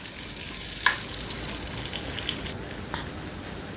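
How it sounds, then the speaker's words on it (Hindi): Okra fries with onions and oil in a pan, giving a steady, moderate sizzle throughout, with a couple of sharp clicks from a utensil and no talking. "तो प्याज को हम यहाँ पे फ्राई कर लेंगे।"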